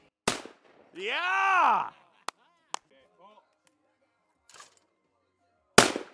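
Loud shotgun blasts at clay targets crack at the start and the end, with sharp smaller pops between. A voice cheers in between the shots.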